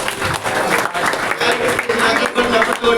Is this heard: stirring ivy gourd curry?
no